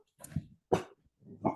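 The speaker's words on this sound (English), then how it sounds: "Ignore my puppy in the background." A puppy yips and barks in a few short bursts, some whimpery, fairly close by, with brief quiet gaps between them and no talking.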